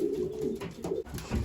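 Racing pigeons coo in a low, throaty, repeated pattern, fairly close and steady across a short stretch, with soft rustling and a brief thump near the end.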